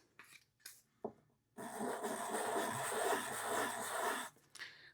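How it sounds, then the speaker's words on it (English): A briar pipe is sanded with 320 grit sandpaper: a few short rubbing strokes, then a sustained raspy scrubbing for about three seconds, close and steady, ending with brief light rubs. "work on the rim and then sand it all over"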